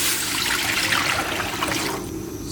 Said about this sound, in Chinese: 锅里加水，